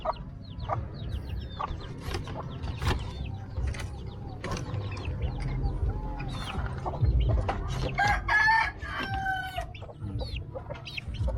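Labuyo junglefowl and labuyo-cross chickens clucking continuously nearby with a rooster crowing clearly near the end, over steady low rumble and scattered rattling clicks.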